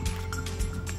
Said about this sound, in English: we can literally hear the boat going